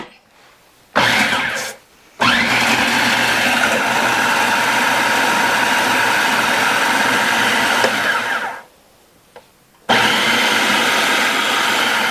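A kitchen appliance whirs loudly, crushing pieces for a coffee cake cheesecake crust, running in steady bursts: a short pulse, a long grinding run of about six seconds, then another run, separated by quiet pauses.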